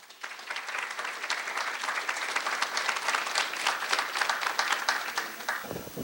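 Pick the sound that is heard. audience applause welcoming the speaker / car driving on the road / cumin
audience applause welcoming the speaker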